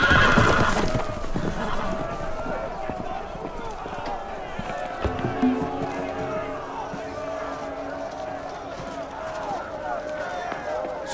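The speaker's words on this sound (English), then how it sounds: "The horses! They're loose!" Horses running loose in the Game of Thrones Telltale video game, with a loud whinny at the start, then clopping hooves and commotion continuing underneath, while voices in the scene carry on.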